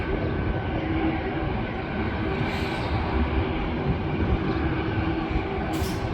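A JetBlue Airbus A220 airliner at Milwaukee airport gives off a steady low engine rumble and whine at moderate distance, with faint hissing touches late on.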